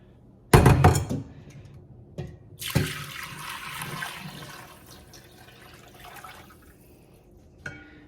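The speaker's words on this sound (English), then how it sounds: "I'm gonna strain it one more time, go through a finer mesh strain." Homemade bone broth poured through a fine mesh strainer: a hard thunk and a loud gush of liquid at the start, then a steady splashing trickle with a clank partway through, fading to quiet drips.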